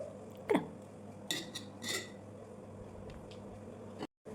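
Koorka stir-fry is spooned onto rice on a wilted banana leaf, bringing a few soft clinks and scrapes of a serving utensil, with brief squishy pats between them against a quiet room.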